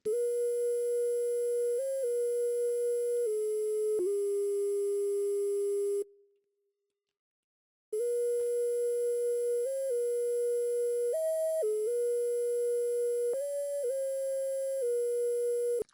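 A dry synth line for a new age pluggnb beat, plain and unprocessed: a pure, sine-like tone holds long notes with small pitch steps, briefly dropping out to silence for about two seconds before resuming, with no voices.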